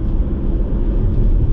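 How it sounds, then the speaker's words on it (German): Tyres of a Hyundai Kona rolling slowly as the car pulls away on electric power, a steady low rumbling road noise with no engine, close and continuous. "Ganz langsam losfahren, ne? Hört man nur die Reifen."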